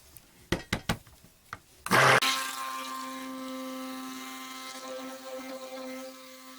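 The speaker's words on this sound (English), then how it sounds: "I just mixed it in with the stick blender really well" A stick blender mixing cold process soap batter: a few knocks and taps, then the motor starts with a loud burst and settles into a steady whirring hum that continues to the end.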